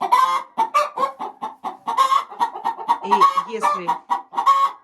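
A laying hen clucks repeatedly in a series of close, loud, rhythmic clucks while sitting before laying an egg, with a brief human voice mixed in.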